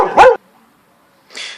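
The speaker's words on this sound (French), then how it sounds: "mon chien a aboyé" One close, loud bark from a pet dog indoors in a home workshop, then a short stretch of quiet before a brief hissy noise near the end.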